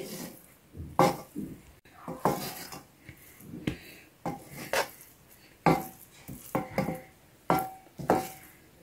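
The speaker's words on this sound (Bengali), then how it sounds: "আমি আবার 2 মিনিট পরে ঢাকনাটা ওপেন করে নেড়ে দিচ্ছি।" Polau rice is stirred in a pot with its lid opened, a series of close, sharp scraping clinks of a spoon against the metal pot in an irregular rhythm, with quiet pauses between strokes.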